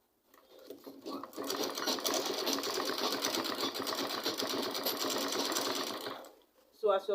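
A sewing machine stitching fabric for a spiral turban runs in one steady, fast rhythmic burst for several seconds, close and clear, then stops, followed by a short clatter.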